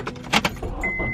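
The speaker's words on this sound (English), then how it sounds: "I'm gonna go ahead and turn the car on." A 2010 Honda Accord is started: keys jangle, followed by a brief engine turnover and a steady high warning chime from inside the car, close and fairly quiet.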